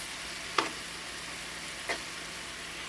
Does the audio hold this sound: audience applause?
no